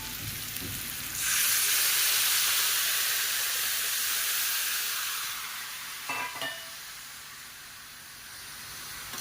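Raw mango curry sizzles loudly in a hot pan as water is poured in, a sudden burst of hissing steam that holds steady and slowly eases, with a few brief clinks of a utensil near the end.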